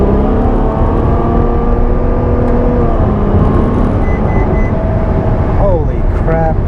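A Ferrari F12 Berlinetta, a 2015 supercar with a 6.2 liter engine, pulls away hard from inside the cabin. Its steady, loud engine drone climbs in pitch, and gearshift sweeps come near the end.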